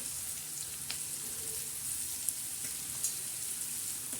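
Soybeans sizzle on a tava in oil with garlic, chili, onion and tomato: an even, quiet crackling hiss with a few small pops, close and steady, with no talking.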